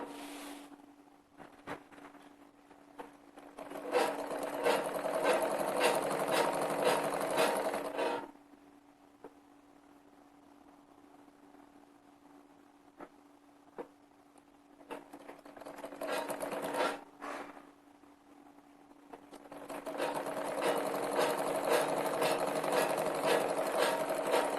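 Fresh seam stitching on a Rajasthani kurti runs on a sewing machine in three loud, sustained bursts of several seconds each, separated by quieter stretches with a steady low hum and occasional clicks.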